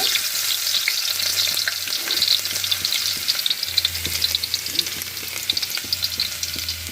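Loud, steady sizzling of chopped garlic frying in hot oil, a constant crackle with a faint low hum underneath.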